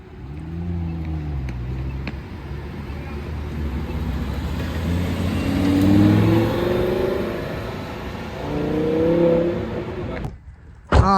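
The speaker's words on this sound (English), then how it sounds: "Gallardo Performante Spider. This thing sounds so sick. I just heard it pull up." A Lamborghini Gallardo Performante Spider engine rumbles and revs with rising and falling roars, fairly close and loud throughout, ending with an abrupt sharp burst.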